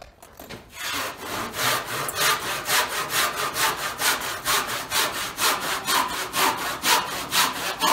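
Hand saw cutting through wood while laying out rafters, close and loud, with a steady back-and-forth rhythm of about two strokes per second that continues without talk.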